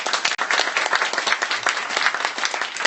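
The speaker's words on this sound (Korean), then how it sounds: "우리 감사의 박수 한번 합시다" Church congregation giving a round of applause, a dense, lively burst of many hands clapping nearby that carries on steadily for about three seconds.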